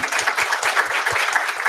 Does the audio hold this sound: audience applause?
yes